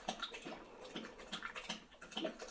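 A thirsty dog laps water from a bowl close by, a quick irregular run of wet slurps and splashes with no talking over it.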